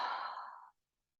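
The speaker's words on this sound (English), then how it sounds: "we're going to fog up the mirror, opening up your mouth and breathing out." A single soft open-mouth exhale, Ujjayi-style breathing as if fogging a mirror, is heard close and quiet. It lasts under a second and then stops into silence.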